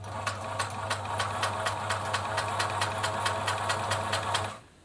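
A Singer 700 series sewing machine runs a straight stitch at a steady even pace, its rapid needle strokes over a low motor hum heard up close until it stops near the end.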